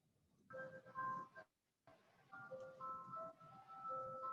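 Ice cream truck jingle playing a clear melodic tune outside during a virtual community meeting, with a brief pause before the melody resumes, moderately loud and alone.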